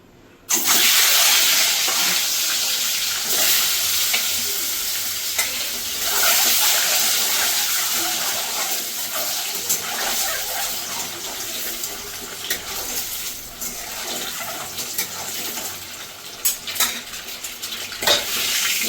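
Eggs and potatoes dropped into hot oil for egg curry, a loud sizzle bursting in and then hissing steadily in the pan, fading slightly over time, with occasional utensil clinks.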